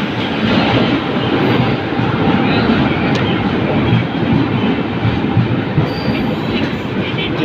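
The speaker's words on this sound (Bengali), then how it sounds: "এই যে চলে আসলো আমাদের ট্রেন" Brahmaputra Mail train 15657 arriving at a station, a steady loud rumble of wheels and rolling carriages filling the whole stretch, with faint clicks and squeals over the rail noise.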